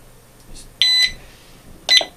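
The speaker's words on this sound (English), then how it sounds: "wait for double beep" Two short, high electronic beeps from an XL temperature sensor in learn mode, close and clear, separated by about a second of quiet.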